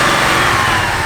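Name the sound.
Chevy SS LSA V8 engine revving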